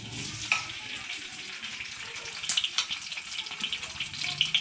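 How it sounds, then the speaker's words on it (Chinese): Fatty pork sizzles in hot oil over a low wood fire in a farmhouse kitchen, a steady crackling hiss with scattered sharp pops and spits throughout. "把这个肥肉先煎一下"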